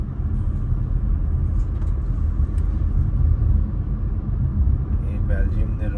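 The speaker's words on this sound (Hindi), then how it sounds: "उस रिंग उत्ते ट्रैफिक ब्लॉक हुई है और ट्रैफिक चल भी रही है" Continuous low rumble of road traffic on the Brussels ring road in Belgium, heavy and steady throughout with cars moving in slow, congested flow nearby.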